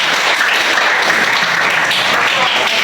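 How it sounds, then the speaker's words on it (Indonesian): A classroom of junior high students applauds a classmate, a dense steady burst of many hands clapping together for about three seconds. "Ya, tepuk tangan dulu buat temannya"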